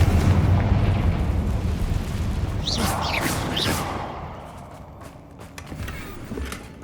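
Confringo fire spell explosion in the video game Hogwarts Legacy: a loud rumbling blast with crackling debris that fades into a lingering low rumble.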